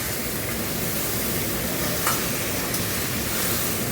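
A shukto cooking pan hisses steadily while it is stirred after water goes in, a constant loud sizzle with light scraping and no talk.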